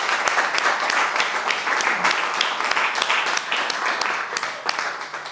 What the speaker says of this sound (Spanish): un aplauso para Javi